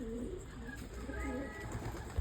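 Several pigeons coo in low, rolling murmurs close by, overlapping continuously, with faint ambient noise and a soft voice underneath.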